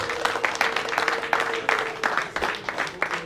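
Clapping from a church congregation at a memorial for a pastor, a short burst of scattered, uneven hand claps close by, with a faint voice underneath.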